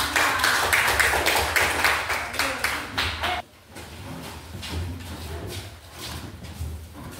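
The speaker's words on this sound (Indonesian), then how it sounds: "tepuk tangan untuk Bapak" A classroom group claps for the male teacher in a burst of rhythmic applause that ends abruptly partway through, followed by quieter room noise with a few scattered taps.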